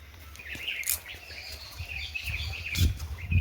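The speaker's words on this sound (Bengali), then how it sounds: "পাখির ডাক" Birds call and chirp in the open air, scattered high-pitched notes over a low rumble and occasional thumps nearby.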